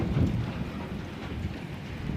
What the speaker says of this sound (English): That was a severe thunderstorm.